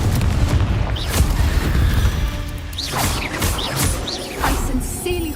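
The Confringo fire-blast spell in Hogwarts Legacy strikes in a series of booming, crashing impacts with whooshing swishes, several hits a second apart over a rumbling game background.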